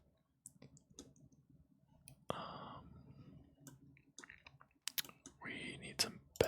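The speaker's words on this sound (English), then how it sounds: "I'm either using my keyboard or my mouse buttons to like grab and pan the camera" Sparse, quiet computer keyboard taps and mouse button clicks come in irregular bursts while someone plays Rimworld, with soft whispered speech and breathy sounds between them.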